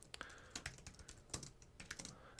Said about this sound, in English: And I'm typing this out to you.